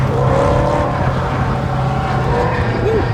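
A Porsche Cayman 718 GTS driven on a track, its engine a steady drone at partial throttle with a slight pitch sweep, close and loud throughout without talk.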